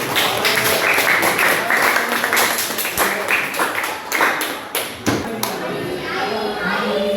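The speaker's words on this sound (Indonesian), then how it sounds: "Tepuk tangan semangatnya" Schoolchildren in an Indonesian classroom give a spirited patterned round of clapping, sharp rhythmic bursts of claps with thumps that loosen and fade toward the end, with children's voices mixed in.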